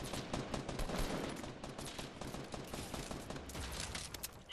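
Rapid automatic gunfire bursts clatter almost nonstop during a Fortnite squad match. The dense, loud shots overlap into a continuous fusillade with no talking.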